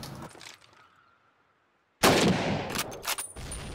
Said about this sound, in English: That was me throwing a grenade.